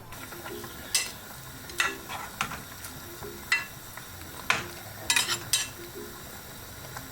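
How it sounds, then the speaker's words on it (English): Chicken stew with peppers and thyme simmering in a pot, a soft bubbling bed broken by irregular sharp pops and spits, close and moderately loud with no talking. "Now we're going to leave it for about 15 minutes to simmer, so all the peppers and the thyme gets to cooking"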